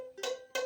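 Two short, muted ukulele chord strums that die away quickly, sounding dull and deadened rather than ringing.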